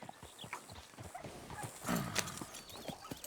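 A horse in the Red Dead Redemption 2 western game clops along with quick hoofbeats and snorts, close by, with a louder whinny-like burst near the middle.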